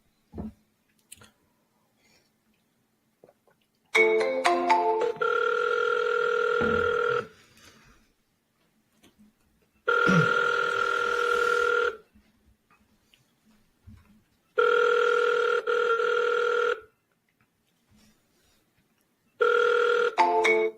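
Ringback tone of an outgoing phone call, a repeated two-tone ring in bursts of about two to three seconds separated by silent gaps, four cycles, heard clearly with no talking.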